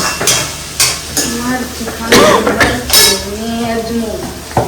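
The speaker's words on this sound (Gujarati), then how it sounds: "ભાભી બનાવી રહ્યા છે સુરતી પાપડીનું શાક" Surti papdi flat-bean curry being stirred in a pan with chili, salt and an ajwain tempering; a utensil scrapes and clinks against the pan in uneven strokes over a light sizzle while a person talks nearby.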